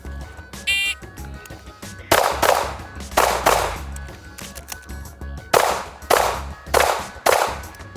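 Gunshots ring out during a Colt shooting competition run, a series of sharp, loud reports spaced unevenly, some in quick pairs, close to the listener with a short echoing tail after each.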